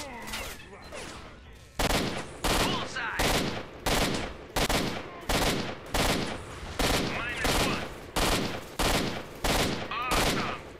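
Rapid bursts of video game gunfire fill the scene, about a dozen loud automatic volleys at a steady clip, each a short, sharp spray, with faint chatter beneath between bursts.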